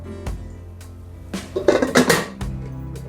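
A pressure cooker lid is fitted and locked in a kitchen while baking an eggless cake, with a soft knock followed by a cluster of loud metallic clanks and scrapes near the middle, then quiet.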